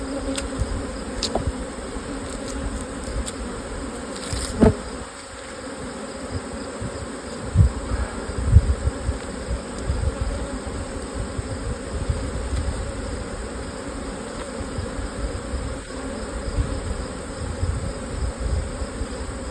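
Honey bees buzz steadily around a hive during a honeyflow, a dense insect drone that stays close and fairly loud throughout, with a few brief knocks and bumps breaking through.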